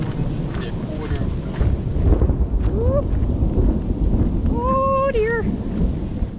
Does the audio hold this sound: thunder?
yes